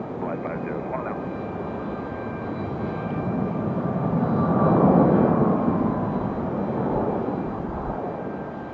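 A United airliner touches down and rolls along the runway at Raleigh-Durham International, a broad rumbling roar that builds to a peak midway and slowly fades, with brief whining tones at the start.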